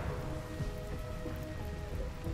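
Steady rain falls in the colony-building game Rimworld, a constant even hiss of drops on surfaces with faint tonal game sounds layered underneath and no speech.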